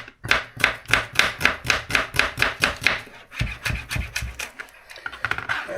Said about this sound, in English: I'm just going to chop up the rest of the onion